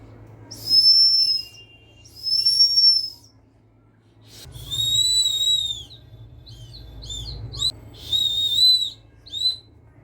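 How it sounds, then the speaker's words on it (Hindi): A child blows a whistle during a home speech-therapy exercise, giving several distinct shrill whistle blasts in an irregular series, some long and some short and sputtering, close and loud with quiet gaps between. "सीटी बजा।"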